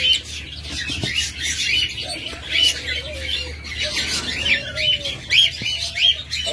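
A pair of lovebirds chirps and squawks close by in repeated quick, high, bright bursts, with a few lower whistled calls and brief wing rustles between them.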